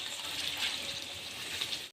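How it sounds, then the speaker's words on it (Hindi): Warm water pours from a jar into a pan of spicy chicken chatpata gravy, a continuous splashing gush that runs steadily for about two seconds, close and alone, then cuts off abruptly. "इसमें हम थोड़ा सा पानी ऐड कर दे रहे हैं।"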